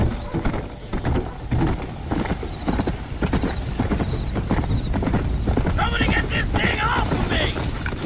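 Horse hooves clip-clop steadily in Red Dead Redemption: Undead Nightmare, a rhythmic run of close, fairly loud hoofbeats mixed with game sounds and a brief whinny, with voices talking over them.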